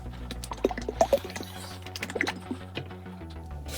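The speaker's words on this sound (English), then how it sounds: "Some oil on top, so we're gonna shake it up." A rapid series of small clicks and rattles of a paint bottle being shaken, close and fairly loud, with a low hum beneath.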